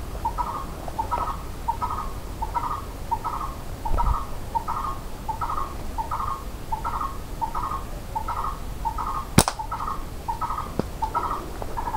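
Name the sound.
mini parrot calling in forest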